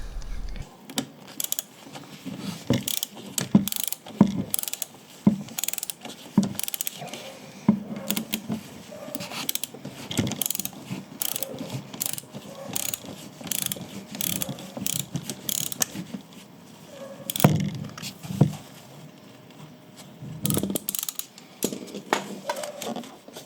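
Repeated clicking of a ratchet turning a 17mm socket on a Honda SH 125 scooter during an oil change, irregular bursts of close metallic ticks with pauses between them, no talking.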